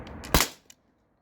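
A single sharp shot from an HDP50 Gen 2 launcher, loud and close, with a brief decaying tail and a faint follow-up click; no talking.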